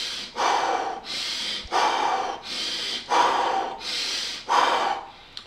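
A person doing a deep breathing exercise, six slow, loud, close breaths at an even pace, each a long airy rush through the nose or mouth with short pauses between, and no talking.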